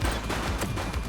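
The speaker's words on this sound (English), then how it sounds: "He's shooting!" Dense, loud gunfire from the police video game The Precinct, with rapid shots and bursts overlapping without pause for about a second.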